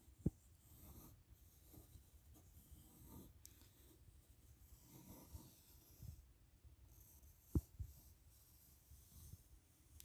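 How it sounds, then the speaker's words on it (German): Pencil traced slowly around the outline of a hand on a white sheet of paper, giving a soft, steady scratching drag with a few light ticks, quiet and close, with no talking. "zeichnet mit einem Bleistift einmal außen an der Hand entlang"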